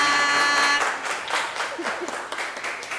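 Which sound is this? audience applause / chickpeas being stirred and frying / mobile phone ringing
audience applause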